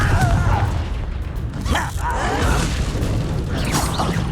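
A Confringo explosive spell cast in Hogwarts Legacy bursts out as a loud, booming blast with whooshing, crackling debris, sustained and dense across about four seconds.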